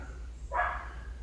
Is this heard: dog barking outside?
yes